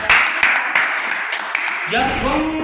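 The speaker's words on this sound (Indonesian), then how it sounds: "jadi kita tepuk tangan dulu untuk kita semua" Classroom applause, dense and steady hand clapping from a group of students that fades as a voice begins speaking.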